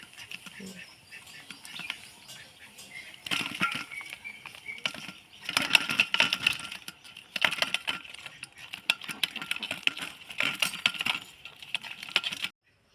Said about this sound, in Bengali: ছাই আছে তাই ছাই দিয়ে কাটবো